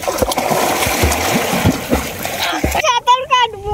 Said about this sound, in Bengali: অজিত তো মনে খুশি তো সাঁতার কাটতেছে।